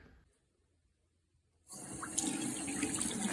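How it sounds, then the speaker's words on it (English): Water gushes from a household faucet, starting abruptly after a quiet stretch and running steadily and loudly to the end, close to the microphone. "running the water faucet in the house"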